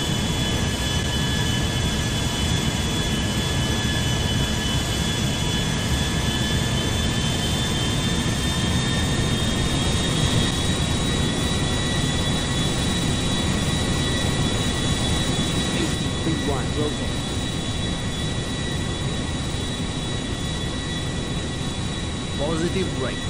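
Airbus A320 jet engines spool up for takeoff in GTA V, a loud, constant roar with rising whine tones that holds steady throughout, heard in a flight simulation.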